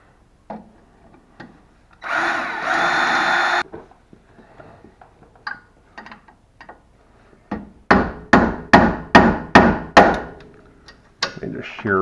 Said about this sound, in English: we're going to drill out these 3 pop rivets here